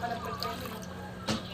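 Water poured from a dipper into a cooking pot of home-cooked food, a soft continuous splashing and trickle under a busy background, with a brief louder splash near the end.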